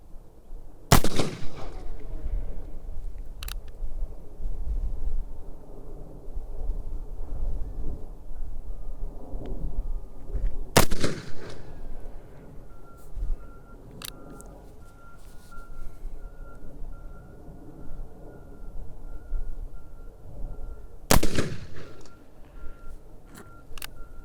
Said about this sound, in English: it's said that when Bill Hickok made this shot, he had rested his revolver on his forearm like so when he made the shot